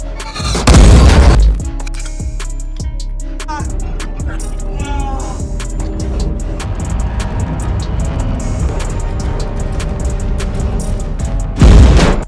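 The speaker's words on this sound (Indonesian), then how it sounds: "Saling bidik dan saling tembak terjadi." Tank gunfire and explosions from a World War II tank battle in a war film: two heavy booms open and close the passage, with sharp impacts, rumbling and scattered clanks between them.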